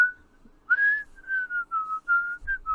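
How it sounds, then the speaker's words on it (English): A person whistles a short, clear melody of several sustained and gliding notes, close and alone. "Beautiful whistling, by the way."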